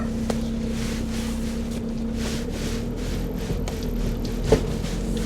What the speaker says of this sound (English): there's the ferry boat in